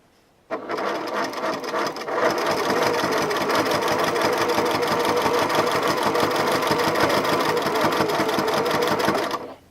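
A sewing machine runs steadily, stitching a cuff onto a dishtowel, starting with a short burst and then settling into a continuous fast, even whirring hum with rapid needle ticks, close and loud, until it abruptly stops.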